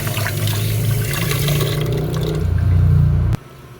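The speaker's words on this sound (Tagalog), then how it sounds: "Laglag tayo ng tubig" Water pours into a cooking pot for rice, a loud continuous splashing gush lasting a few seconds and swelling slightly before stopping abruptly, with no talking.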